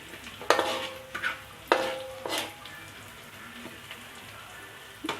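Onions sizzle and fry in a pan for a spicy squid dish, with quiet crackling broken by several sharp stirring scrapes and clatters against the pan, close and fairly soft.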